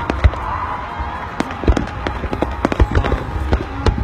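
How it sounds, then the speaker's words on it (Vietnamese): Fireworks at a Japanese summer festival, with repeated sharp bursts and crackles at irregular intervals, some booming louder than others, over a faint murmuring crowd in the background. "Đây là part cuối của tiết mục bắn pháo hoa bên đây."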